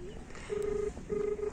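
A phone is dialed to place a call, giving a few steady keypad-style tones with short gaps, heard close and fairly faint with a low background murmur.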